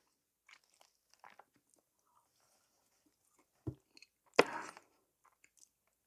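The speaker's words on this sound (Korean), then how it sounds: "시유에서 나오는 말차 카스테라인데 맛있을지 모르겠네요. 한번 먹어보도록 하겠습니다." Bites of a convenience-store matcha castella sponge cake: a few soft, close chewing and biting sounds, with one louder crunchy bite near the end, surrounded by near silence.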